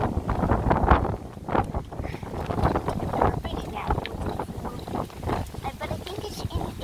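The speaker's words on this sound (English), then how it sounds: "Ooh, it's a windy one out today." Gusty wind buffets the microphone on an outdoor bike ride along a road beside woods, a steady loud rumble with bursts under occasional talking.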